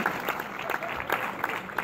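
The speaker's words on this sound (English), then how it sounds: "Give Cleo Patrick a round of applause." An audience at a motivational talk applauds with a brief burst of brisk, moderately loud clapping from a crowd.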